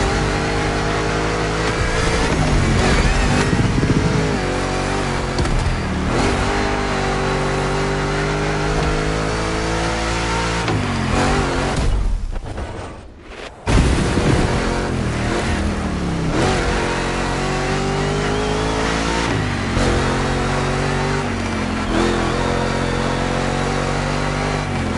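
Engine of a racing car in The Crew Motorfest, loud and continuous, with repeated rising revs and gear shifts, a brief dip in power partway through before it roars back at full throttle.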